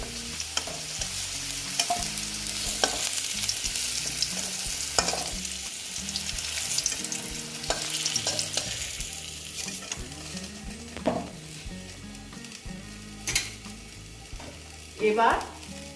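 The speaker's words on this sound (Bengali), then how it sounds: "এই যে করলাগুলো ভেজে নিচ্ছি" Bitter gourd (karela) slices frying in oil in a pan, a steady sizzle with repeated scraping stir strokes and spatula knocks throughout, a few louder clatters near the end, no talking.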